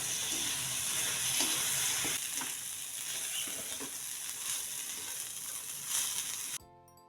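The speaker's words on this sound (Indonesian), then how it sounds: "Aduk-aduk sampai tercampur rata." Fried sweet potato stirred into sambal goreng with beef lung in a pan gives a steady close sizzle with faint scraping stirs. It continues evenly, then stops abruptly near the end.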